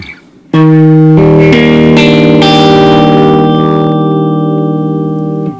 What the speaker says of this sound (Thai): กีตาร์เสียงนิ่งเป็นระเบียบแบบนี้เวลาคุณเล่นคอร์ด